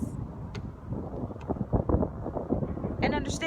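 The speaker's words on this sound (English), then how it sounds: "it's kind of windy, but not too windy" Outdoor wind buffeting the microphone in low, uneven rumbles beneath a person speaking, moderate rather than strong gusts.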